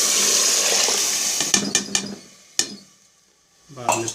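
Water poured into a pressure cooker pan of mutton kaleji masala, a loud rushing gush that tapers off, followed by a few clanks of the pan and a later sizzle, close up with no voices.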